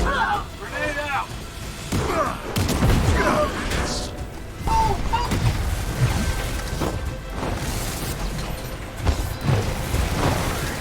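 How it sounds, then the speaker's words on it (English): A grenade blast in the video game Marvel's Avengers, heavy booms and crashes among repeated gunfire and impacts, with someone talking excitedly over the action. "Grenade out!"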